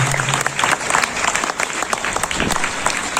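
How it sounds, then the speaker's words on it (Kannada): Audience applause at a devotional cultural music programme in Mumbai, a dense, steady clapping that fills the hall without a break. "ತಮ್ಮ ಜೋರಾದ ಚಪ್ಪಾಳೆಯ ಮೂಲಕ"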